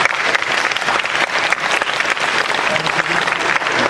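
Sustained audience applause for guests at a forum lecture, dense and steady clapping throughout, loud and close, with no speech over it.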